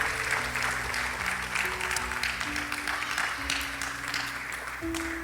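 A church congregation applauding the Lord during a Spanish-language service, with a continuous wash of clapping over a sustained musical drone of organ or keyboard tones.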